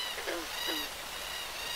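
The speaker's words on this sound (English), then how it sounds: "there's like this bird sound down here" A synthetic bird call from a tabletop RPG ambience tool, two short chirping calls in quick succession near the start, moderately faint and washed in reverb over a steady airy background hiss.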